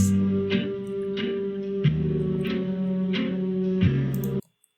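Minecraft jukebox playing a music disc: steady sustained tones with rhythmic chimes and echoing accents roughly every half second, heard alone at moderate level for about four and a half seconds before cutting off.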